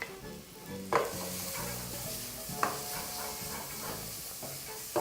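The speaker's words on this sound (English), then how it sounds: "Just keep frying them till they get a bit of that beautiful color" Spring onions, leeks and white onions sizzle steadily in a pan, a continuous hiss with a few sharp clacks of stirring, loud and close with no voices.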